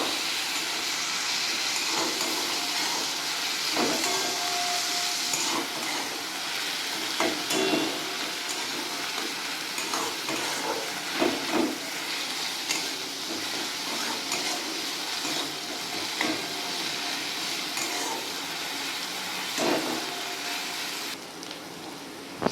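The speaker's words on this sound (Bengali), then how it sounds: "এই পেঁয়াজ আর রসুনটা আমি বাদামি রঙে ভেজে নেবো" Chopped onion and garlic fry in hot oil until brown, a long steady sizzle and hiss with intermittent clinks and stirring scrapes from the pan throughout.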